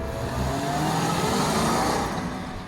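A Range Rover Supercharged cruises on a public road, its engine a steady, full drone heard from inside the cabin, rising slightly in the middle and then easing back.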